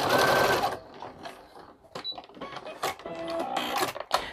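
A sewing machine stitching a hand towel, running in bursts of rapid rattling needle strokes with short pauses and clicks between runs.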